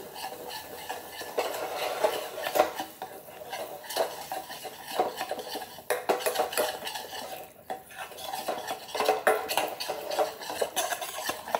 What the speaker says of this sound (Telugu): చూసారు కదా, ఇది మంచిగా ఫ్రై అవుతుంది